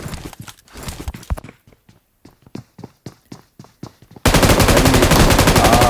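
Gunfire in the mobile battle royale game PUBG Mobile: a run of sharp, evenly spaced shots fades to sparse bursts, then a loud, dense, continuous roar of fire takes over the final seconds.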